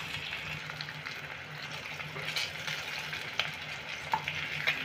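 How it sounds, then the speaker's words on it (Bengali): Rohu fish pieces frying in oil in a pan for a mustard rohu recipe hiss and sizzle steadily at close range, with scattered pops and crackles throughout. "আর ওই সাইডে এইভাবে ভেজে নেব।"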